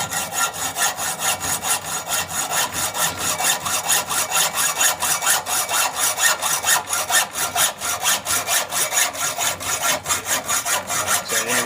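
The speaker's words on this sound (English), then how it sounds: "what we do is we just take and take our hacksaw" A hacksaw cuts off the excess length of a rifle barrel during rebarreling, giving fast, even back-and-forth rasping strokes that are loud, close and continuous for the whole stretch, with no talk.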